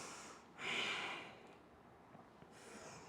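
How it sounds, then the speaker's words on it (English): A deep, breathy exhale swells and fades through a slow yoga flow, soft and close, followed by quieter air and a second faint breath at the end. "breathe into your lower back"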